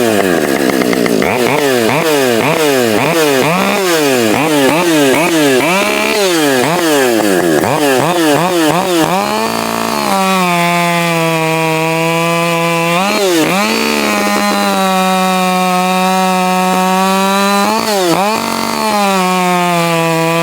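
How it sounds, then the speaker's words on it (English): A Husqvarna 555 Professional chainsaw with a ported muffler roars loudly and continuously, revving up and down in repeated surges before holding a high, steady whine with brief dips as it cuts wood. "is a Husqvarna 555 Professional. These 5 series tend to be a little hot, so I haven't ported this cylinder, but it does have a ported muffler on it."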